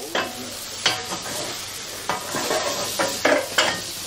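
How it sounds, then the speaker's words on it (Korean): A big pan of paella for fifty crisping its rice into socarrat, with soft sizzling under a scattering of scraping stirs and utensil knocks, close and with no talk. "소카랏이 완성되는 소리입니다."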